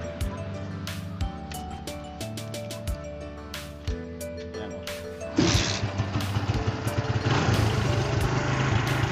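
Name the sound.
Barako motorcycle engine running after kick start, cleaned carburetor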